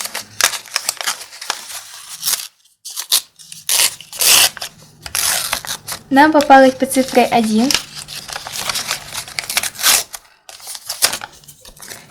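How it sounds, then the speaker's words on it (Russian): Crinkling and ripping of a paper packet being torn open in short bursts, close by, while someone talks and briefly makes a drawn-out vocal sound. "И я умудрилась порвать пакетик."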